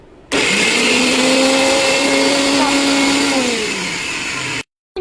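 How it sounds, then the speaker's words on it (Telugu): A mixer grinder whirs loudly as it grinds ginger garlic paste, starting abruptly, running steadily with a falling motor whine near the end, then cutting off. "ఇప్పుడు మనం పేస్ట్ ఆడుకుందాం, అల్లం వెల్లుల్లి పేస్ట్"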